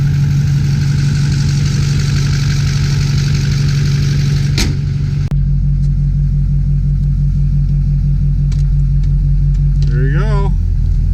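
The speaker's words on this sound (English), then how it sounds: "let's go for a test drive" A car engine idles and rumbles steadily, then pulls away for a test drive, with a sharp thump as it shifts and a quieter rolling drive afterward, plus a brief squeak near the end.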